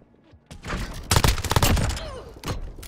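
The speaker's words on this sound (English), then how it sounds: "Cruise missile. Go for launch." A cruise missile strike in the Call of Duty: Modern Warfare video game, heard as a burst of loud, rolling explosions and blasts that build into a dense barrage and then trail off into rumbling echoes.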